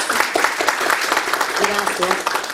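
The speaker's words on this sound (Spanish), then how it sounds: "Pedirles un fuerte aplauso para nuestros expositores." An audience applauds the speakers at the close of an accounting seminar, a moderate crowd's clapping mixed with a voice talking over it.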